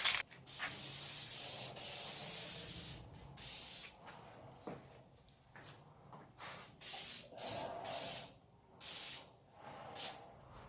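Spray paint hisses onto the bumper of an Intimidator SS Monte Carlo in a series of short and longer close bursts separated by quiet gaps, no one talking.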